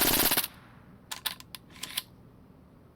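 Gunfire from a 50-round gun in the PUBG Mobile video game: a dense opening burst followed by a scattered series of sharp shots with pauses between, fairly close.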